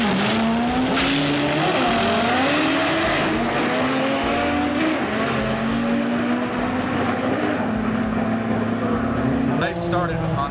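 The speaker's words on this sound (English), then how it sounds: "And we have a PFC Honda Civic. It's a 67mm Honda. Running in front wheel drive class" Honda Civic front-wheel-drive drag race car with a 67mm turbo, making a drag strip run at an import face-off event, a loud continuous engine roar rising in pitch with crowd and announcer noise beneath.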